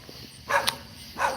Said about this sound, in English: hey, that's a dog.